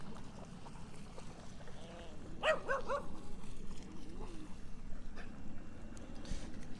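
A small dog yaps a few times in a short burst at a large dog park, set against steady outdoor background noise, with faint talk nearby.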